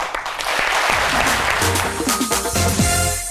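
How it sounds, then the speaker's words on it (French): Studio audience applause on a French talk-show set, a dense, loud and steady clapping roar with some tonal music mixed in beneath it. "nous allons le recevoir en plateau tout de suite, mesdames et messieurs, grâce à vos applaudissements, Dr Philo."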